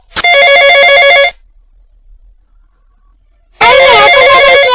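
A telephone rings in two loud electronic bursts, the first lasting about a second, then a few seconds of silence before the second begins, with no voices.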